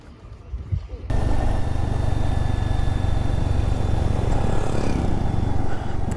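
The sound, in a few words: loaded Royal Enfield Guerrilla 450 motorcycle setting off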